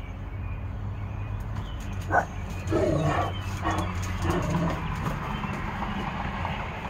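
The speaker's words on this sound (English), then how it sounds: "Every time, one bark, and Ollie goes running over there" A dog gives a few sharp barks near the middle, fairly close, over a low steady background hum, with no talking.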